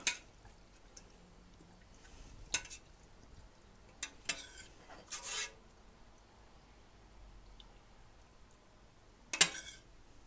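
A spoon stirs cooked black-eyed peas in olive oil in a pot, giving a few short, quiet scrapes and rubs separated by near silence, with one sharper scrape at the end.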